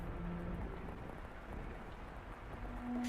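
Steady rain falls outside throughout a scene in the visual novel game The House in Fata Morgana, a continuous soft hiss with no speech and faint background music.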